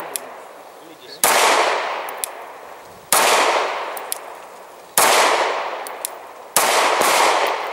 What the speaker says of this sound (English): after shooting about 70 rounds here from that position